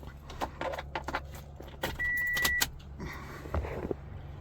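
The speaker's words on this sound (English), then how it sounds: "Let's get the keys." Car keys jangle in bursts of metallic clinks near the driver's side of a vehicle, followed by a steady electric motor whine lasting under a second and more faint rattling, with no speech.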